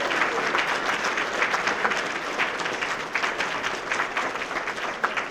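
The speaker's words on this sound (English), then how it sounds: "Let's give them a round of applause." A ceremony audience at an Order of the Engineer induction breaks into sustained applause, many hands clapping in a dense, even roar that holds steady for several seconds, fairly close and loud.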